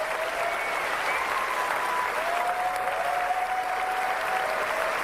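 Steady applause from a conference audience fills the room, even and sustained from start to finish, with a faint voice or tone drifting through underneath.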